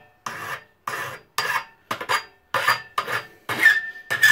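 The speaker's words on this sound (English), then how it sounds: "one of the nice things about using a hacksaw though over other methods" A hacksaw cuts through frame stock while a robot chassis is assembled, giving about eight close, loud rasping strokes in an even back-and-forth rhythm with short gaps between them.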